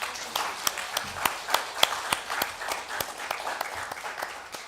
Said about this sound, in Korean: 박수는 받으셔서 마땅해서 이 시간 박수하겠습니다